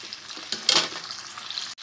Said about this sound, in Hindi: तो हम इसको चिकन को जो है वो 6 से 7 मिनट जो है वो फ्राई करेंगे